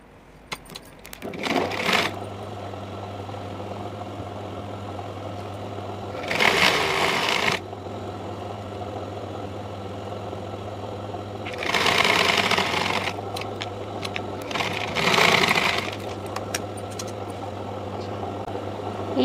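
Sewing machine stitching a long boat-neck frock, a steady mechanical whir with a constant motor hum underneath and three louder bursts of rapid stitching, close up and alone without talking.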